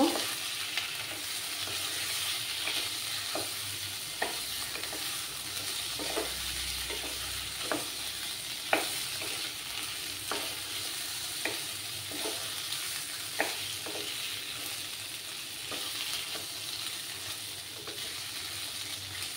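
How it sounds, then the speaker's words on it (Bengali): Spices with turmeric powder stir-fried in a pan for a Bengali small-fish curry with ridge gourd and potato: a steady oily sizzle broken by regular scraping spatula strokes, close and alone. "দিয়ে দেবো পরিমাণ মতো হলুদ গুঁড়ো, দিয়ে ভালো করে কষিয়ে নিব"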